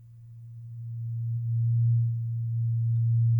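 A pure, steady low tone from a brass instrument's harmonic series, the fundamental with its octave isolated, sustained for several seconds and swelling gently in loudness, nothing else audible.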